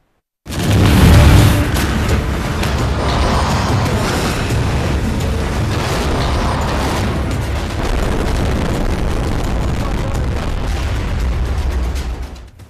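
Bomb blasts in war-torn Afghanistan, a loud boom opening the clip and then a dense, continuous roar of explosive rumble and debris that holds steady for the rest.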